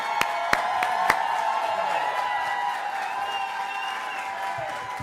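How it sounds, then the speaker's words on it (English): A crowd at a Democratic Party election-night event in Burlington applauds as Christine Hallquist is welcomed to the stage, with a few sharp close claps up front over sustained, dense clapping and scattered cheers from the room. "we got to give her a big round of applause while we welcome her to the stage here in Burlington"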